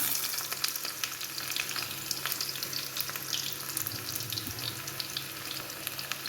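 Onions sizzling and frying in hot oil with mustard seeds in a pan on the stove, a steady close crackle with occasional stirring, for Malayalam-style payar and papaya curry; no talking.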